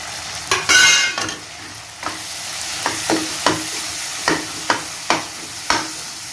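Onion and tomato masala sautéing in oil with turmeric, chili, coriander, cumin and pepper powders added, sizzling steadily under repeated sharp spatula scrapes against the pan, close up and without voices.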